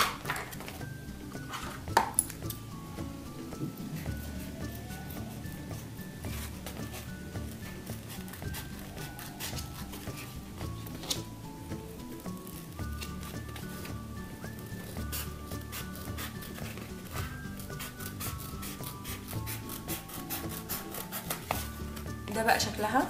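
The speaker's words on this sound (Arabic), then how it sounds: "بعد كده هنبدا نقصها بالمقص." Scissors snip through a craft foam sheet in a series of soft, irregular cuts, heard close up beneath steady background music.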